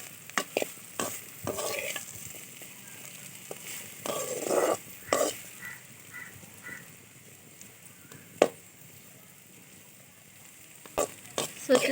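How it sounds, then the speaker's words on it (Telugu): Okra (bhindi) fries in oil in a home kitchen, with a low, soft sizzle broken by repeated clicks and scrapes of a spoon stirring the pan, some louder than others. "నేను ఇప్పుడు మళ్ళీ బెండకాయలు నూనెలో వేయించుకుంటున్నాను"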